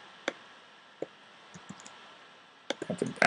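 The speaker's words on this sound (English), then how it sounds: "So I type in 70, click enter" A few sparse keystrokes click on a computer keyboard, faint and close, ending in a quick cluster of louder taps.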